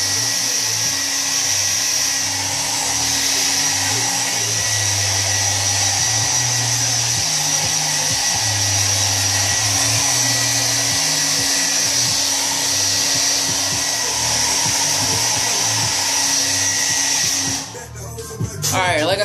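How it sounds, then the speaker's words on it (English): A hair dryer blow drying dreadlocks, a loud continuous whooshing motor drone held close for most of the time, with slight shifts as it moves through the hair before cutting off near the end. "It's just just gonna be a real quick blow dry."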